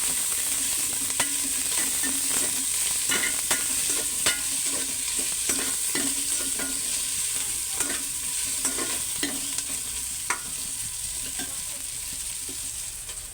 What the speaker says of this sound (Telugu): ఇంకా అల్లం వెల్లుల్లిపాయ పేస్ట్ తీసేసుకొని ఈ మిశ్రమాన్ని కలిపేసుకోవాలి